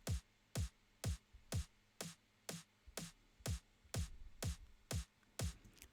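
Layered electronic kick and snare drums from a house music production hit in a steady, even pattern of about a dozen punchy strikes. Each pairs a deep booming low thump with a bright crack, and they play alone without any talking.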